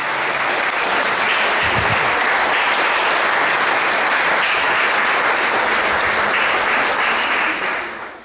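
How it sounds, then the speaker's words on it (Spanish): Congregation applauding during a Sunday church service, dense sustained clapping filling the whole stretch, loud and close, fading slightly at the end. "Ahora sí aplaudimos a nuestro Dios."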